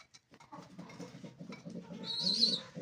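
A Danish breeding pair of pigeons coo softly, low and close, in a rumbling run that builds slightly as it goes, with faint chirping near the end and no talk.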